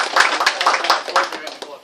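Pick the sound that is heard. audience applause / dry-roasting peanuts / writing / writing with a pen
audience applause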